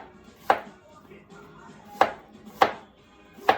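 A knife chops through a green banana on a cutting board, slicing it on the bias: four sharp, close thuds spaced unevenly over a few seconds, with quiet kitchen room tone between cuts.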